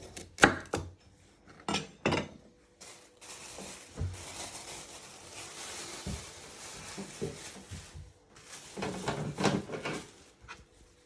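Knife chopping the ends off carrots on a cutting board while preparing roasted vegetables, giving a few sharp, close chops with clatter and kitchen handling noise between them.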